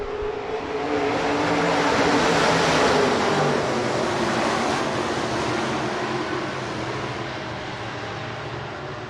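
USRA B-Modified race cars thunder around a dirt track in a heat race, a loud, continuous engine roar that swells and fades as the pack passes, with no talk over it.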